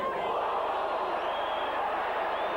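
A Widnes rugby league crowd roars steadily in a stadium, a sustained massed shouting and jeering that holds at a constant loud level throughout.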